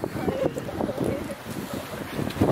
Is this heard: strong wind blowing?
yes